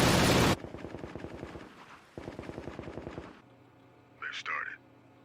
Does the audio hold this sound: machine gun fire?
yes